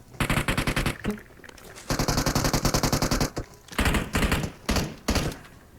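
Bursts of rapid automatic gunfire in the PUBG Mobile battle royale game, loud and close, in several separate volleys with short gaps between them.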